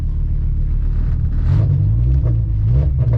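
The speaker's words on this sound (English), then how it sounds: "Yo, we're about to drive this car." A VW Golf 3 with a swapped-in VR5 engine pulls away in first gear, a loud, close, deep rumble rising into a short rev and then settling.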